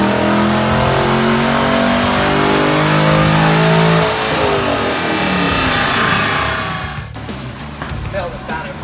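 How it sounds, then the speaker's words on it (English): A car engine on a dyno revs hard, rising in pitch as it climbs through the rpm range, loud and close, then falls off sharply near the end. "Jeremy starts the second dyno run"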